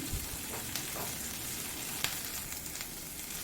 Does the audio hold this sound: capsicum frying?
yes